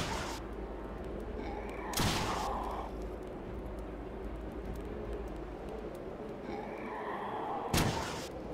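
Heavy, booming weapon fire aimed at a boss in the video game Starbound, a steady rumbling barrage with sharp loud blasts standing out at intervals, no talking over it.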